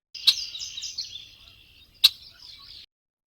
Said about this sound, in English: a red-winged blackbird